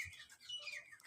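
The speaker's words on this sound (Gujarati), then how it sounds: "સાંજનો સમય છે પક્ષીઓનો કલરવ અવાજ" Birds chirping over a farm field in the evening, a few bright overlapping tweets and calls at moderate distance, fairly soft against a quiet background.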